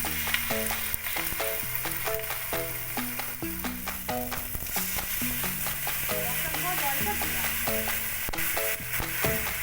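Spices, bay leaf and poppy-seed paste frying in a pan on lowered heat for potol dorma, a steady close sizzle with stirring clatter throughout, no voices.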